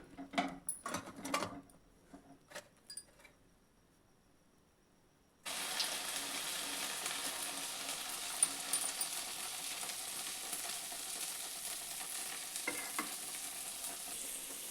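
Corn vadas (makka garelu) frying in hot oil: a few clattering handling sounds and a quiet pause, then a sudden, steady bubbling sizzle that continues to the end.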